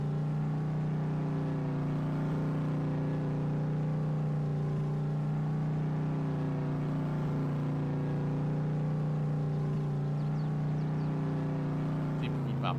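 A truck drives in Farming Simulator 22 with a steady engine hum and a strong low tonal drone. Faint higher whines appear near the end. The sound is continuous and even, with no clear voices.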